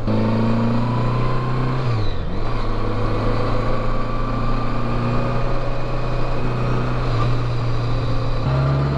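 A 1981 Honda GL1100 Interstate motorcycle rides along with a loud, steady engine hum heard close, its pitch dipping briefly as the rider shifts and then climbing again, with wind roar over the continuous drone.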